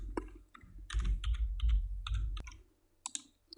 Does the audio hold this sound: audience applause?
no